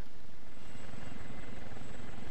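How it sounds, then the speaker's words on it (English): A helicopter in the survival video game DayZ flies overhead, its rotor beating loud and steady throughout the short stretch with no talking. "Oh, helicopter."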